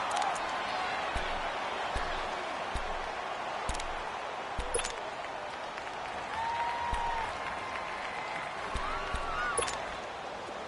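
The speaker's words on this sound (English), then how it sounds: "the crowd getting into it as we come up on a big 3rd down" A stadium crowd roars in an American football video game, a steady distant wall of cheering and applause that swells slightly, with a few faint sharp ticks and short tonal calls over it. No one speaks.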